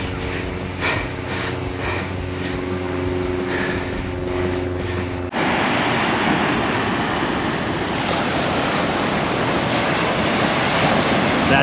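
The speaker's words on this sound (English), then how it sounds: "I'm down here by the beach." Waves wash onto the Lake Michigan beach at Indiana Dunes, a broad continuous roar of surf, preceded by a few seconds of wind and footsteps before the sound opens up fully and stays loud and steady.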